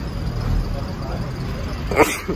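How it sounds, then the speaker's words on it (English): A person sneezes once, close by and sharp, near the end of a short stretch of steady outdoor street background in Barbados. "That's not the way I should have handled the sneeze."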